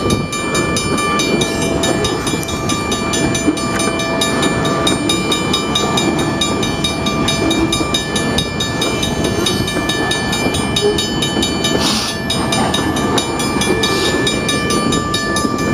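A GP40 diesel locomotive of about 3,000 horsepower sounds its horn at the Normal Avenue crossing, steady sustained tones held over a continuous loud rumble of rolling train noise.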